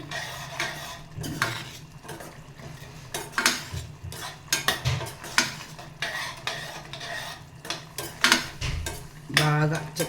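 Ridge gourd curry stirred in a metal pan, the spoon scraping and clinking against the sides in repeated strokes, with a low sizzle underneath, up close and fairly loud.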